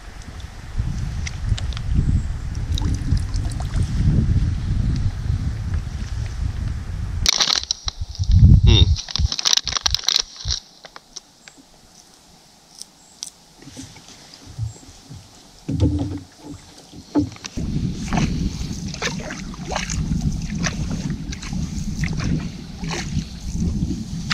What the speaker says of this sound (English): we've got a long paddle with potential portages all along it